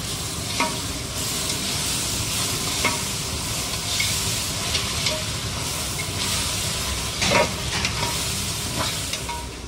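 Onions fry with ginger garlic paste in a hot pan, sizzling and hissing continuously, with spatula scrapes and stirring clatter coming through at intervals.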